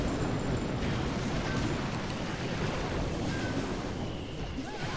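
A continuous loud roaring rumble of wall-breaking bombs exploding in Clash of Clans fills the scene, dense and heavy throughout without pause.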